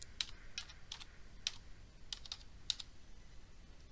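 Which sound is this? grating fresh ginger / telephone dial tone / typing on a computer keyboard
typing on a computer keyboard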